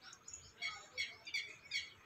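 Small birds chirp near a peacock-feather (morpankhi) plant, a string of faint, quick tweets repeating about every half second in a quiet outdoor setting.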